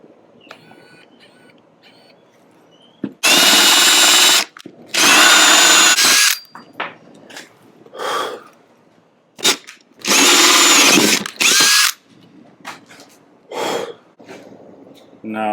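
Bursts from a Makita 12-volt 2.0 amp brushless cordless drill used to build a nine-hole barricade, loud and close in two pairs of long whirring runs, with a person talking in the pauses between them.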